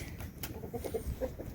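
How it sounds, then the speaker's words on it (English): A loose chicken outdoors after storm damage gives a few soft, short clucks over a background of faint ambient noise. "We just gotta catch this last chicken"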